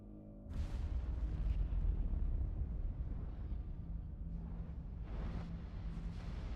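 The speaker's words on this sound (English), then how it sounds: "What was that explosion?" A sudden heavy explosion from Assassin's Creed Syndicate sets off at the start and becomes a sustained, loud, low rumble, with bursts of crackling debris later on. No one speaks.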